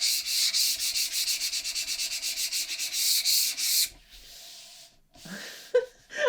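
Eraser held at an angle and rubbed back and forth across a big rotary cutting mat along cut lines: a rapid, regular run of scratchy strokes, close and fairly loud, then stopping, followed by faint handling noise.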